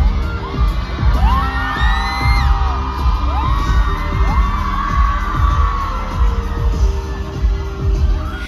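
Screaming concert crowd, many teenage girls at the front, before a band on the main stage of the Lent festival in Maribor: shrill rising and falling shrieks and whoops pile over a loud, continuous roar of cheering.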